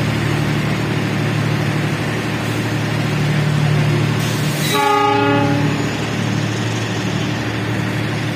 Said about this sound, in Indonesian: Argo Sindoro tujuan Semarang Tawang jam 16:25. Tepat diberangkatkan dari stasiun Gambir.